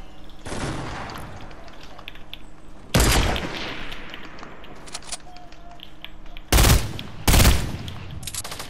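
Gunfire in the video game Fortnite, with loud separate bursts of shots and sharp cracks, including two close heavy blasts near the end, over a steady background of game noise.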